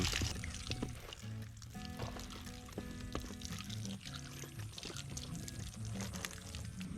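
Water pours and splashes steadily over fruit being washed in preparation for homemade jam, a continuous close trickling with small drips and squishes, fairly faint and without speech.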